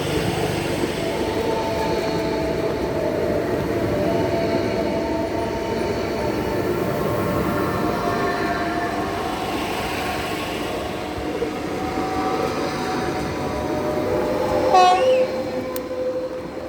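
A train rumbles steadily past on the climb toward La Tor de Querol, and its horn sounds near the end with a brief, loud blast over the rolling wheels.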